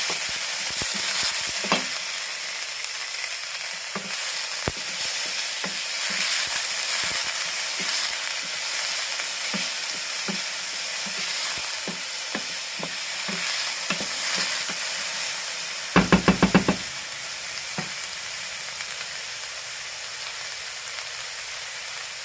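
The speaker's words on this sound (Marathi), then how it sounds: "एक मीडियम साईजचा बारीक चिरलेला कांदा आहे. हे चांगलं आता भाजून घ्यायचं." Finely chopped medium onion and garlic fry in a pan for a banana flower sabji, giving a steady close sizzle with occasional stirring scrapes and a brief burst of clatter midway, with no talking.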